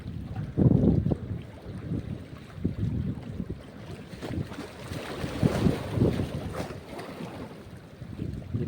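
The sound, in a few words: strong wind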